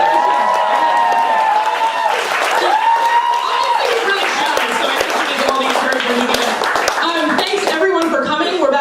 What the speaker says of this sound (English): Do you want to do another round of applause for Steve Westall,